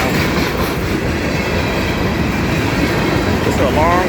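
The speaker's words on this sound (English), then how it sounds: "This is a long train." A long freight train passes a block signal at McDaniel Road, a loud, steady rumble of railcars with clickety-clack wheels and a brief squeal near the end.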